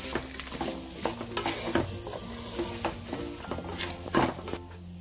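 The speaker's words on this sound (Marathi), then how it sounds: "गाजर, फरसबी, छान आपण ह्या भाज्या आता त्या तेलामध्ये परतूया." Carrots, green beans and peas sauté in oil in a pot, a soft sizzle under frequent scraping and clinking strokes of a spoon against the pan, close and quiet, with no voices.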